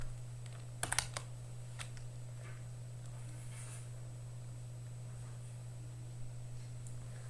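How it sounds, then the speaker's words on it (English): A few quick keystrokes on a computer keyboard, a short cluster of sharp clicks near the start and then scattered faint taps over a steady electrical hum. "You can just type letters."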